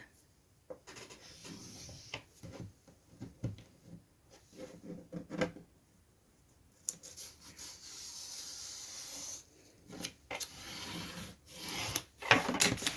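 Paper being scored with a scoring tool drawn along a ruler while making a tag accordion booklet: quiet, intermittent scraping and rubbing strokes, some short and some longer, with small handling knocks between them and no talking.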